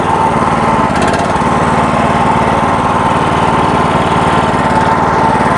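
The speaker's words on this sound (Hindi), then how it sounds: "नहीं जी, ये मशीन स्टार्ट हो गई है" A self-start fodder cutter reaper machine's engine runs steadily at a constant drone, loud and close, with no talking over it.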